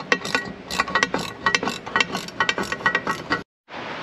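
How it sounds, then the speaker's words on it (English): A wrench ratchets in quick bursts of clicks while tightening the hardware on an upTOP Overland AFS truss, the rhythmic clicking close and fairly loud before stopping abruptly near the end. "use your wrench to tighten everything into place"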